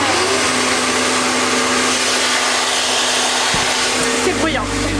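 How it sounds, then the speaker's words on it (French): Bissell cleaner roaring loudly and steadily while cleaning bar stools, with a close whining drone that shifts slightly near the end. "le Bicel va très très bien, mais alors il est très très bruyant"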